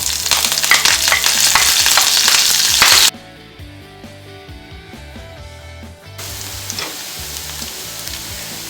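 Ginger, garlic and green chilli sautéing in a hot pan with cumin, a loud crackling sizzle that drops sharply for a few seconds while stirring, then resumes at a moderate level.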